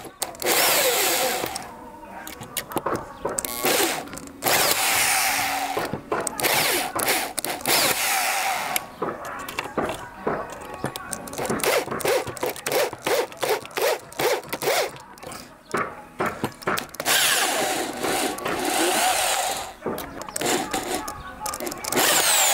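A power tool, a single socket-type driver sold as a top seller in the United States, drives screws in bursts of whirring and clicking, loud and close, with intermittent pauses between runs and some background talk.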